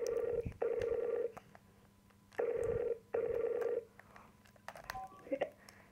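A phone call rings out in repeated paired tones, two long beeps, a pause, then two more, over a quiet background with faint clicks and a few small electronic chirps near the end.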